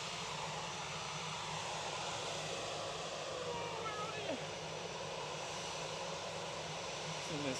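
A distant aircraft near Manchester Airport gives off a faint, steady roar under outdoor ambience, and voices are heard over it.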